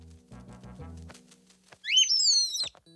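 A cartoon baby bird chirps in a quick bright burst of high whistling tweets, following a few soft low sounds and brief quiet.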